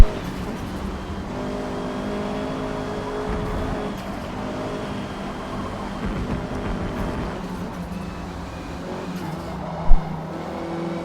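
A Honda Civic Type R racing in Forza Motorsport, its engine droning steadily at high revs through the whole lap section, loud and continuous, with a sharp thump near the end.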